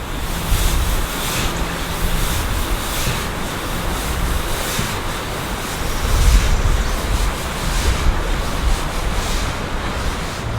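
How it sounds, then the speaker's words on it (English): A hand rubs in circles across the wooden top of a double bass, making a steady, close, rushing wash that swells and ebbs like surf or flowing water. "I will take my hand and rub the top of the bass along the wood"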